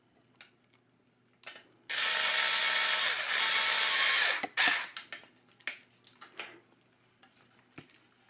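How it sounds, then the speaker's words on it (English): A power screwdriver drives a screw into the trigger assembly of a Dyson V10 vacuum, one sustained close whir of about two and a half seconds, followed by a few light plastic clicks and taps from handling the part. "I'm going to replace the screw that holds the trigger assembly in place."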